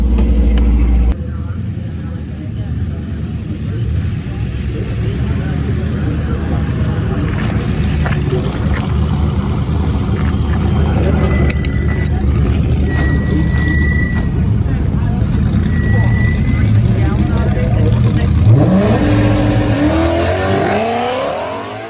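A fast race car running at a qualifying event, its engine droning loudly and steadily for the whole stretch with rising revs near the end, while people talk underneath.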